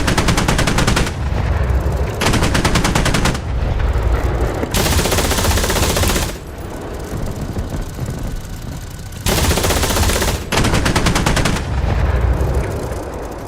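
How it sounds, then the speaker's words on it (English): Repeated long bursts of an aircraft nose cannon in a flight simulator, loud rapid rattling broken by short pauses, with a quieter engine-like stretch in the middle before firing resumes. "I love that cannon. It's right there in the nose."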